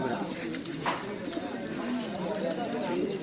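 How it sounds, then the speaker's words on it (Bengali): Pigeons coo at a busy village pigeon and poultry market, the soft calls mixed into steady crowd chatter and background bustle. "খুব সুন্দর কবুতর লাল কবুতরগুলো আমার কাছে খুব পছন্দ হয়েছে"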